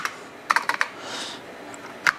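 Keys struck on a TRS-80 Model 1 computer keyboard during a key test routine: a quick cluster of four clicky taps, a pause over faint background hiss, then two more taps at the end, close and fairly loud.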